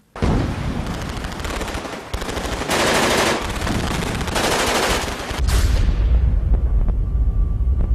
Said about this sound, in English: The machine gun just opened up.